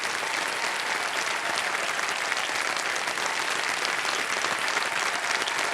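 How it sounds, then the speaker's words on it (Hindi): Sustained applause from a TV game show studio audience, steady and dense clapping throughout with no pauses. "और तालियां बजती रहें"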